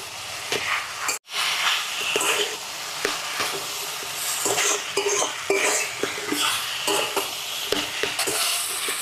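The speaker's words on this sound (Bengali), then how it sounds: "কাঁকড়া আর আলু দিয়া কিছুক্ষণ কষায় নিলাম মশলার সাথে" Crab pieces and fried potatoes being stirred into spiced masala in a pan, a close sizzle broken by repeated scraping and clinking of a spoon against metal, with one brief silent gap near the start.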